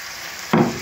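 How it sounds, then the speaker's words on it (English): Slices of fish dropped into a hot pan for Jamaican brown stew, a sudden loud close sizzle bursting up after a quiet stretch of faint frying hiss. "I'm now gonna put my fish in"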